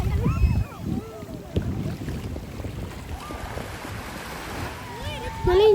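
Surf rolls in at Hahei Beach as wind rushes across the microphone, a continuous wash of waves with faint birdsong-like chirps and distant voices in the background.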